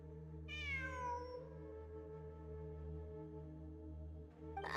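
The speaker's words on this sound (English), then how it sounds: "It really is a cat." A single cat meows once, a clear descending call near the start, heard over a steady low electrical hum with a faint sound rising at the end.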